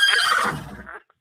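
A single horse whinny as a sound effect, loud and bright, fading out within about a second, followed by a brief faint sound.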